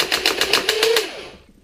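Motorized foam dart blaster fitted with a Rayven mod, firing a quick run of about seven darts in a rapid rhythmic burst with a rising motor whine that spins down at the end.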